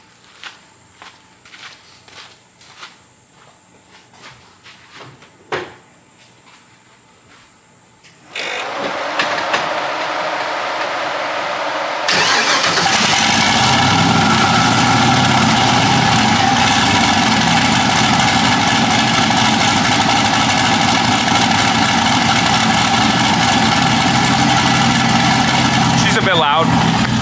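Footsteps and light clicks, then a turbocharged LS engine in a Nissan 240SX cranks, catches and settles into a loud, steady idle.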